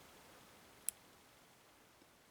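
A single crisp, quiet click from a pin setting while a vintage Yale 840 padlock is picked, followed by near silence and a barely audible tick later on.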